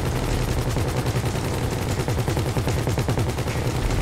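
Rapid gunfire in GTA Online during a heist raid on a lab, a loud, continuous stream of overlapping automatic shots with a steady rattling rhythm throughout.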